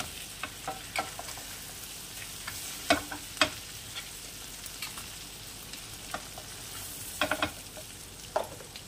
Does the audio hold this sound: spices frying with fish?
yes